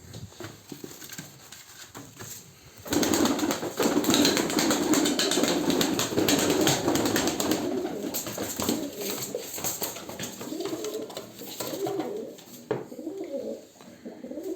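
Tumbler pigeons coo steadily at close range, soft repeated calls layered with rustling and flapping that swells after a few seconds and stays busy to the end.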